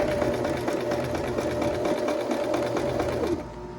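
A sewing machine runs steadily for nearly four seconds while edge stitching a dress bodice, a dense, even mechanical whir with rapid needle ticks that stops abruptly at the end.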